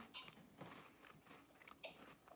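Crunchy pumpkin-flavored sandwich cookie, like an Oreo, being bitten and chewed close up, with a few sharp crisp crunches spread over about two seconds, quiet and alone.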